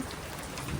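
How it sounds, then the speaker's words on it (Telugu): Steady, dense hiss of rain pouring down onto surfaces, continuous and fairly loud throughout the short moment. "ఫ్రెండ్స్ ఫుల్ వర్షం పడుతుంది."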